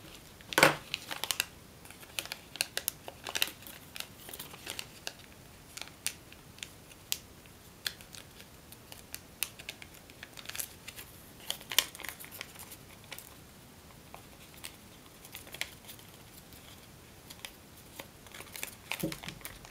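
Paper is creased and folded by hand into an origami Mockingjay, with sharp crinkles and dry taps scattered unevenly over a long, quiet stretch.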